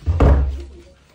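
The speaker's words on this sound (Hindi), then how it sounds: "मम्मी जी बाहर डोर पे नॉक कर रहे हैं।" A single heavy thump on a door from outside, a dull low knock that decays quickly.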